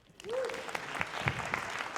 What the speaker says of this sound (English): Give Sean a round of applause